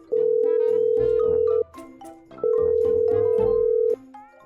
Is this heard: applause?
no